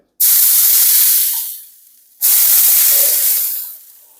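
Two loud bursts of hissing sizzle, each flaring suddenly then fading over about a second and a half, like water hitting a hot pan.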